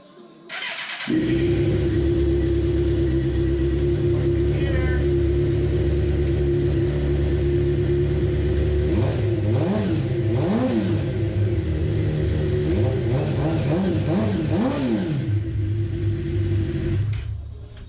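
A 2006–2007 Suzuki GSX-R motorcycle engine cranks and catches, then idles loudly with several sharp revs rising and falling midway before shutting off near the end.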